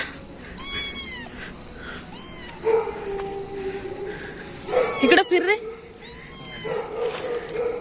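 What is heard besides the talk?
cat yowling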